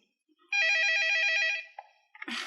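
A telephone rings once with a warbling electronic trill lasting about a second, close and clear, followed by a brief rustle.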